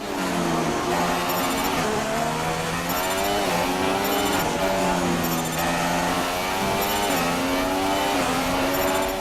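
An F1 car engine in the F1 2016 racing game, during Australian Grand Prix practice, wails loudly and continuously, its pitch climbing and dropping repeatedly as it shifts up through the gears.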